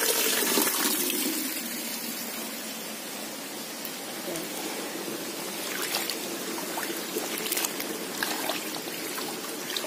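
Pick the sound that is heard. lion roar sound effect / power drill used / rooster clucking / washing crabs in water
washing crabs in water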